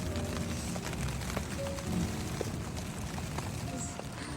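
Rain and hail beat steadily on a tent during a spring trek in the Himalayan mountains of Uttarakhand, a dense, even patter heard from inside that runs without a break.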